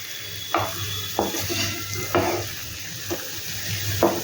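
Onion, garlic and ginger frying in a pan for an egg malai masala, a steady sizzle punctuated by regular scraping strokes of a spoon stirring, near and unaccompanied by speech.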